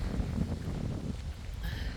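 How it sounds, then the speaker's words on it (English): Strong wind gusts buffet the microphone at an old, nearly dry reservoir in the Australian outback, giving a steady, close, roaring rush with a few uneven swells. "I think it's really, really windy"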